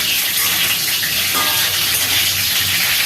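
Cauliflower frying in a pan ahead of making aloo dum, a steady loud hiss of oil sizzling continuously with no talking.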